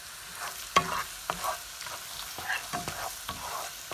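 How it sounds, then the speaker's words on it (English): Frying egg bhurji, Mumbai street style, is stirred and mixed in a pan: repeated spatula scrapes and clicks over a low, steady sizzle, close up with no voices. "So I'm constantly stirring it, mixing it,"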